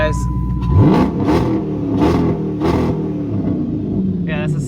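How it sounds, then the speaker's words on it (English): The exhaust of a Dodge Charger running a Diablo tuner with no rev limiter revs loudly and close in several rising and falling pulls over a deep rumble, with someone briefly speaking. "that's the sound of the exhaust without a rev limiter"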